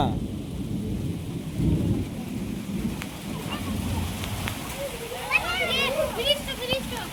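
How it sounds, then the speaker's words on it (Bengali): Rain pours steadily during a storm, with low rumbling thunder rolling underneath and people talking nearby over the downpour. "বৃষ্টি পড়ছে"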